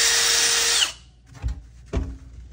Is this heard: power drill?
yes